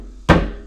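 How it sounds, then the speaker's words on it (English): A single sharp, hollow thunk as a mallet knocks a plastic rainwater infiltrator tank part into place, one close, loud blow that rings out briefly and fades. "So just give it a good knock"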